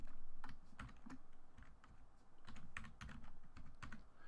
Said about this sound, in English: You'll see as I'm typing,